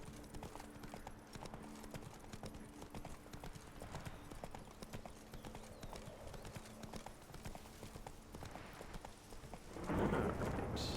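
Roach the horse gallops in The Witcher 3: Blood & Wine, steady clip-clop hoofbeats running throughout and swelling louder in the final second over a low ambient bed.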